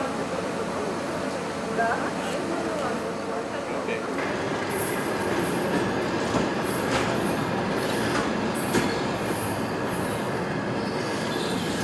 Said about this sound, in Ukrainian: На першу платформу прибуває пасажирський потяг з полученням Київ-Ужгород.